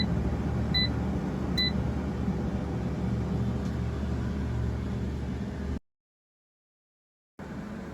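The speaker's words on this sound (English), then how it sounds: "let's put the air fryer basket in the air fryer and set the temperature to 400 degrees" Air fryer set to 400 degrees cooking eggplant pizzas, a steady close fan whoosh with two short electronic beeps early on, then an abrupt cut to silence before the hum returns.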